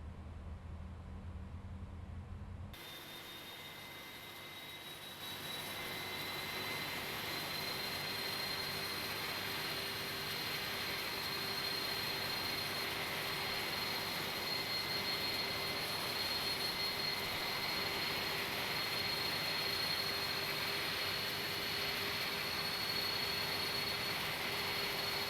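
Airbus A310 jet engine in Microsoft Flight Simulator spooling up: after a quiet start, a steady, loud broadband roar sets in with a thin whine that slowly rises in pitch, running unbroken with no talking.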